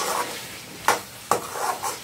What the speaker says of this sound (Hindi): और अच्छा से इसमें मिक्स कर देंगे।